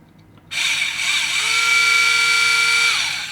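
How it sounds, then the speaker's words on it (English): A small power drill bores into a toy action figure part with a close, high, steady whine that starts suddenly and holds for about three seconds, with a lower tone entering midway. "Now the drill bit should have a flat surface to drill into."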